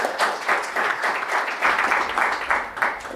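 Audience applause in uneven waves of clapping, fairly loud and close, rising and falling over a few seconds.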